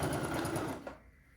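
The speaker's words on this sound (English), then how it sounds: "So I am just going to sew my sets together" A sewing machine runs steadily, stitching quilt block sets together into rows, its close, dense whirring holding for most of a second before stopping abruptly.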